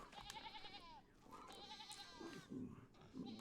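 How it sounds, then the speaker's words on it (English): Sheep bleat several times in the video game Pentiment, wavering calls in a short series with brief pauses between them, fairly clear over a quiet background. "The sheep are blocking my path."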